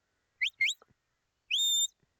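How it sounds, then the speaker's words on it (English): Shepherd's anti-clockwise whistle commands to a working sheep dog at a stock dog auction: two quick rising chirps, then a longer steady whistle with a rising start, sharp and close, with no talk. "So they're anti-clockwise whistles"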